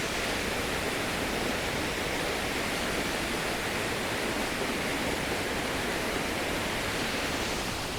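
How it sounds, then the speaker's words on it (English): Waterfall in the woods near Aarhus, Denmark, a steady, dense roar of rushing water filling the scene without pause or voices. "Oh my gosh, there's a waterfall."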